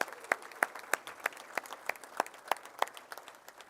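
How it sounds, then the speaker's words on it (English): At an Indiana Girls Basketball Hall of Fame award banquet, sparse, distinct claps ring out at a steady, even beat, a thin applause from a few hands rather than a full crowd, heard fairly quietly. "which I think deserves a round of applause from all of us"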